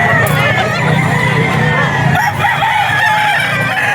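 A gamefowl stag rooster crows at the Bocaue pet market, loud and close over a steady wash of crowd noise and background chatter.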